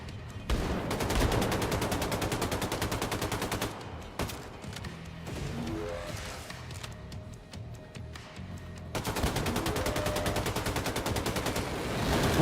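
Gunfire in Wolfenstein 2: The New Colossus, with rapid automatic bursts of shots before and after a brief lull filled with softer tonal game sounds.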